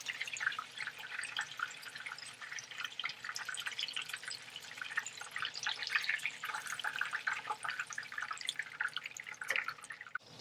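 Frying oil drips steadily off a freshly fried chicken cutlet, a faint, soft patter of small droplets falling continuously and close by, with no talking.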